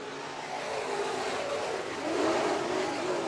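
IMCA Northern SportMod race cars roar through an eight-lap heat race at Kern Raceway, a steady dense engine drone that swells louder near the end as the pack passes close.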